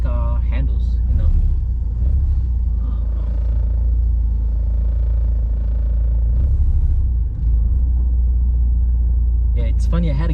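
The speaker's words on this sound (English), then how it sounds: "So we're just gonna go on a quick test drive and see how this car handles" A 2015 Ford Fiesta ST on a test drive, its engine giving a steady low rumble of road and cabin noise that runs throughout while people talk inside the car.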